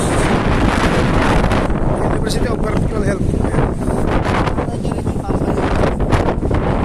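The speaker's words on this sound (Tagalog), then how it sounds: "Ayan, sa rooftop kami. Lakas ng hangin." Strong wind blasts the microphone on a building rooftop in a loud, constant roar while a person speaks briefly underneath.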